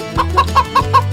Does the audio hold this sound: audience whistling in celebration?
no